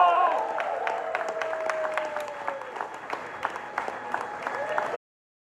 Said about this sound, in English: Come on, clap it up, clap it up.